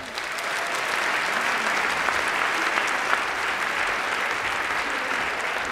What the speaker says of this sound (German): Applaus für unseren Trommler!